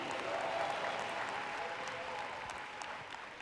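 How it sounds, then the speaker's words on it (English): An indoor audience applauds for a speaker at a talk, a dense, steady clapping that fades slightly toward the end, with faint voices underneath. "Let's give her a round of applause"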